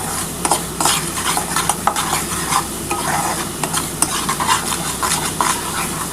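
Spice paste with onion frying in a pan for katla fish curry, stirred steadily with a spoon: a continuous hiss of sizzling oil broken by repeated scraping strokes, close and fairly loud, with no talking.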